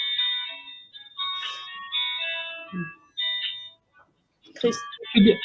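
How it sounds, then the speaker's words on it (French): A telephone rings indoors with bright, repeating electronic tones at a steady rhythm, broken by short gaps, while a person talks over and between the rings. "Ça va s'arrêter le téléphone, excusez-moi, je ne sais pas si vous l'entendez"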